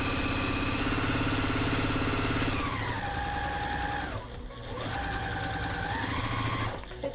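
A sewing machine stitches quilt pieces in a fast, steady mechanical whir that slows briefly midway, then resumes at full speed, close and loud with no talking.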